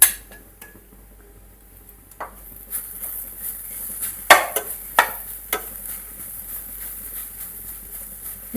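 Carrot halwa is stirred in a pan with ghee: a spoon scrapes and clinks against the metal in irregular strokes, with a faint sizzle underneath and no voices.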